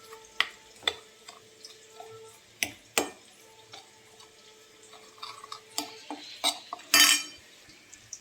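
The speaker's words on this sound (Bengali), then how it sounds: "এবার এটাকে আমি ভালো করে মিক্সড করব।" A batter with sugar being mixed in a bowl: a string of sharp clinks and taps of a utensil on the bowl's rim, irregular in rhythm and close by, building to a louder clatter near the end, with no talk.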